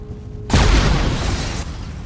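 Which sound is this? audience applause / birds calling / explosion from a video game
explosion from a video game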